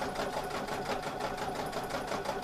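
A sewing machine stitching a zipper pouch, with a steady fast mechanical whirring hum and a rapid needle rhythm, continuous and close.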